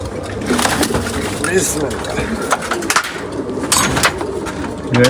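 Pigeons coo repeatedly in soft, throaty bursts amid clattering and knocking close by, with people talking over them.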